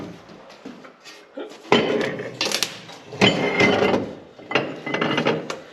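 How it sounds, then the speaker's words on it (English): Heavy metal clanks and scraping as flat steel bars are moved about for welding onto a mixer wagon, irregular bursts of clatter and knocks nearby, no talking. "what you hear is Christoph bringing in some flat steel"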